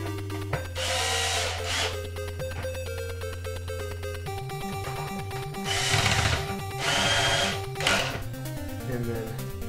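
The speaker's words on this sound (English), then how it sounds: "sound you're hearing is just the motor breaking free. That's the torque sensing part of this electric screwdriver." An electric screwdriver driving screws during reassembly of an NES console, its motor whirring in several short bursts as the torque-sensing clutch slips and breaks free, close and fairly loud, with a steady low hum throughout.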